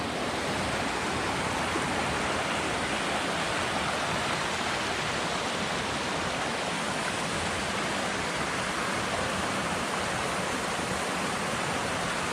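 A river rushes steadily through a forest, a dense, continuous roar of flowing water close by with no voices over it.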